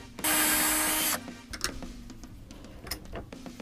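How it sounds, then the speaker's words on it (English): A drill whines loudly for about a second, boring holes through plastic pipe, followed by faint clicks and handling noises. "Try to drill the holes as straight as possible."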